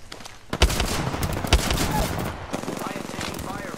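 Rapid automatic gunfire crackles through a video game battle, with bursts of shots and two heavy impacts standing out in dense, loud firing while a player talks over it.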